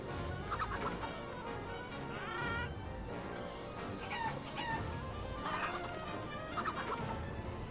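A cartoon chicken in a Wallace and Gromit video game clucks and crows in repeated bursts, fairly close, with fowl-like gobbling calls scattered across the stretch and no talking.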